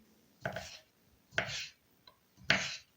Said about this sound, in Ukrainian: Тепер нарізаю огірочки